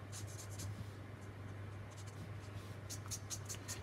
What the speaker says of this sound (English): This is just a Camellia marker.